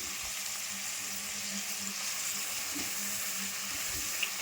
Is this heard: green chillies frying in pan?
yes